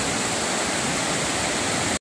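A large waterfall roars as a steady, dense wash of rushing water, loud and unbroken throughout with no voices over it.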